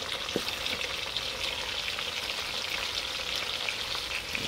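Chopped onions with small red and green bell peppers fry steadily in a pan, a continuous close sizzle with faint scraping of stirring and no voices.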